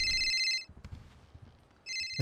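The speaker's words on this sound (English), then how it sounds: "I got a phone call." A phone rings in the Quiet City RP video game, a repeating electronic ringtone sounding at the start, pausing briefly, then ringing again loud and close.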